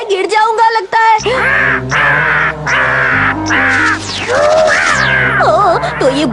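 Cartoon crow caws in a Ninja Hattori episode, harsh repeated calls layered over loud music and sound effects, with no talking.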